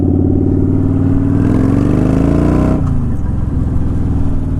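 A Kawasaki Vulcan motorcycle engine drones loudly up close, its pitch climbing and then dropping sharply as it downshifts, settling into a lower, rougher idle-like rumble.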